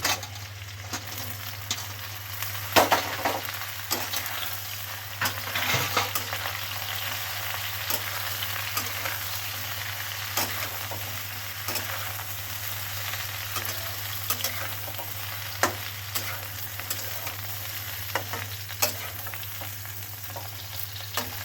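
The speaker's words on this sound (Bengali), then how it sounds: "বেগুন একটু ভালো করে ভাজা ভাজা করে নেবো" Eggplant fries steadily in a hot pan with other vegetables, a constant oily sizzle broken by occasional scrapes and clinks of stirring, with a low hum underneath.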